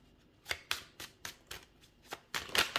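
Tarot cards being shuffled by hand, with a quick series of crisp riffling bursts roughly every quarter second and a longer rush at the end, close and quiet.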